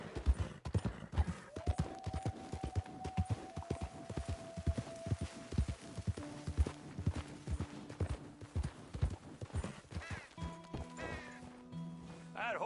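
Horse hooves clip-clopping in the video game Red Dead Redemption 2, a quick steady rhythm of distinct hoofbeats, with a faint voice and tonal game sounds layered in toward the end.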